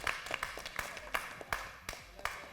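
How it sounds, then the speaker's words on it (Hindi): Studio audience on a Pakistani game show claps in a loose, sparse rhythm, individual hand claps standing out at fairly low volume. "आप लोग अपने लिए तालियां बजाइए"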